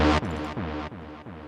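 Analog Dreams synth preset in Kontakt blending an A and a B sound, playing four bright sustained tones in a row, each cut off sharply before the next, loud and alone.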